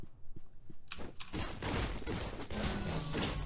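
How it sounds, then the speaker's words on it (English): Gunners opening fire in the Katana Zero action game, a burst of thuds and impacts building into a dense, loud stretch of rapid shots and crashes with game music underneath. "these two gunners are going to be sitting right here shooting at you"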